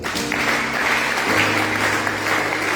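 A congregation at a French-language church service breaks into sustained applause, a dense, loud wash of clapping that carries on steadily without pause.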